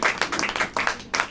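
A congregation claps during a Hindi church sermon, a short burst of loud, close, rhythmic claps at a quick steady pace.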